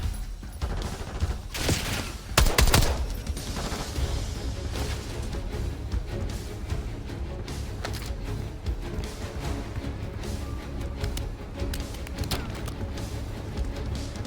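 Dense gunfire in the Call of Duty Black Ops 6 campaign, with bursts of rapid shots and heavy impacts early on, then a continuous loud barrage of battle noise throughout.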